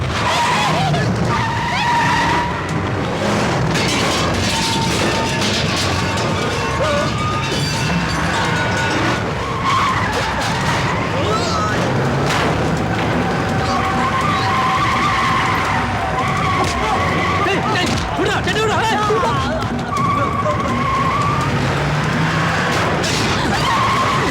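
A car speeds away with its tires skidding in a Tamil film scene; loud screeching and engine roar go on throughout, mixed with voices and dramatic sound.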